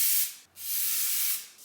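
Hair styling product sprayed onto damp hair in two close, hissing bursts, a longer spray following a brief pause, with no talking.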